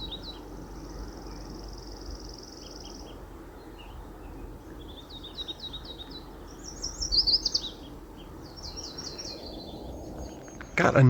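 Birds call and chirp in short, scattered phrases, faint and somewhat distant, over a steady hiss of rain falling outdoors with no voices.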